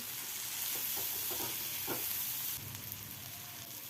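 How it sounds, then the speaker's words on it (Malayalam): Onions fry in a pan for Kerala ulli theeyal, a continuous bright sizzle with soft stirring scrapes in the middle, easing slightly toward the end. "ഉള്ളിയും ചേർത്ത് നല്ലപോലെ ഇളക്കി കൊടുക്കാം."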